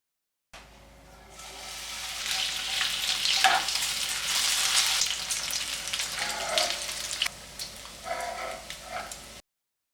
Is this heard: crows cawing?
no